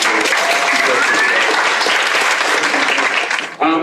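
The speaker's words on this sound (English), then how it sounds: "One big round of applause for all of the speakers." Audience applause for the speakers at a snowy Saturday community event on Denver desegregation stories: dense, steady clapping from a large crowd, loud and sustained, cutting off abruptly near the end.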